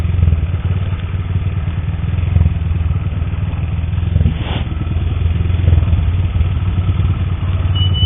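Motorcycle engine making a strange noise, a loud steady low-pitched running rumble with a rough, clattering pulse throughout and a brief brighter rush near the middle, with no talk.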